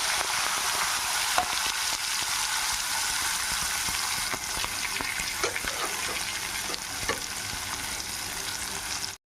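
Chopped tindora (ivy gourd) pieces fry in a pan with a steady, dense sizzle and crackle throughout, and faint stirring scrapes appear now and then.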